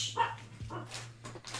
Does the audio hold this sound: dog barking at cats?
yes